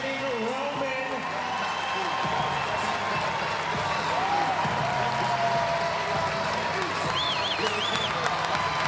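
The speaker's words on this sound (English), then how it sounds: "The crowd chanting Roman." A large arena crowd at the CrossFit Games chanting an athlete's name, Roman, as a dense, continuous roar of voices and cheering that fills the space, with a rhythmic rise and fall under the general noise.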